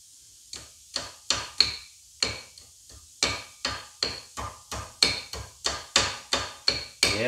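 A hammer strikes repeatedly during trailer work, sharp close knocks in an irregular rhythm of roughly fifteen blows, each with a short ringing decay and no one talking.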